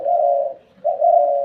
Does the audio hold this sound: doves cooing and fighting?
yes